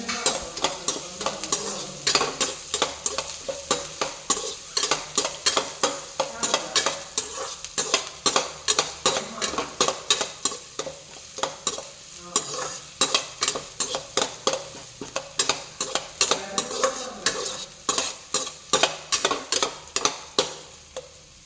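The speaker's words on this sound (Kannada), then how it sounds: "ಅದಕ್ಕೆ ಈರುಳ್ಳಿ ಹಾಕೊಂಡ್ವಿ. ಇದೊಂಚೂರು ಬಾಡಬೇಕು ಈರುಳ್ಳಿ." Onions frying in a pan for shavige bath sizzle steadily while a spatula scrapes and knocks against the pan in quick, regular strokes, close and clear, with no talking.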